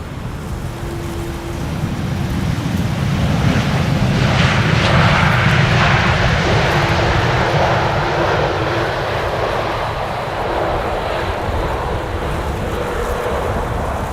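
An airliner roars in to land on the Polderbaan runway at Amsterdam Schiphol during a storm, a broad loud jet rumble swelling close by, mixed with heavy gusting wind buffeting the microphone throughout.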